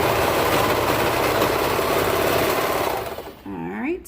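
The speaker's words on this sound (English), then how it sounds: "Again, folded edge in to my serger." A serger sewing machine stitches fabric with a fast, loud, continuous whirring hum up close, then slows and stops, followed by someone speaking.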